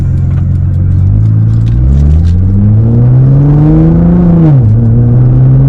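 A Nissan GT-R Black Edition with full bolt-ons accelerates hard from inside the cabin, its engine note climbing steadily, dipping briefly at a gear change, then pulling again, loud and close.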